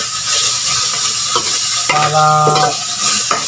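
Dried fish sizzles in a hot frying pan while being stirred, a loud steady crackle with scraping utensil strokes near the microphone and a brief word spoken.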